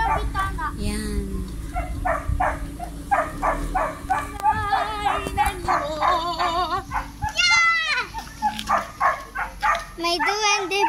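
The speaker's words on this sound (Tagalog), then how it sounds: "Ay, may aso." Dog barking outdoors near Hulugan Falls, a few sharp yips and barks scattered among lively people talking close by.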